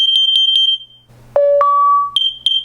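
Nest Protect smoke and carbon monoxide alarm during a test, sharp high-pitched beeps in a quick series, then two lower electronic tones, followed by more loud beeps.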